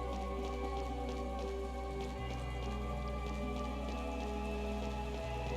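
Constant rainfall in the video game Chained Echoes, a soft, even patter sitting faintly under a steady droning musical score with no talking.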